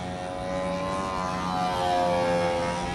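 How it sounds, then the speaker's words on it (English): A radio-controlled model airplane drones overhead, its small engine giving a steady buzzing whine with a clear harmonic tone that swells slightly as it passes, alone without talk. "No watching the guys fly model planes now."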